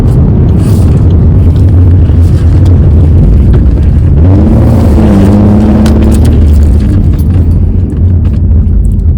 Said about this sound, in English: I'll take this next turn up here ahead too. See what it's like. We'll do it with a hard brake.